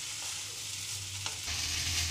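Vegetable pulao made with already-cooked rice is stirred and mixed in a pan over a steady low sizzle, with scraping strokes close by and no talking.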